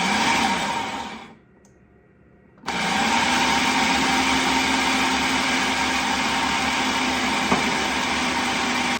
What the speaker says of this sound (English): we're gonna add some more olive oil and blend it a little bit more